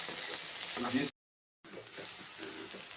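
Okra fry being stirred in a pan gives a soft sizzle with light scraping. It is interrupted by a brief silent gap, then the sizzle resumes at the same low level.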